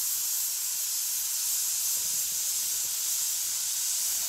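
Steam hisses from a pressure cooker of oxtails before the lid goes on, a soft, steady, breathy hiss that stays even and faint throughout, with no voices.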